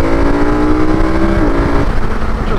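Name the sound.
motorcycle accelerating quickly using its quick shifter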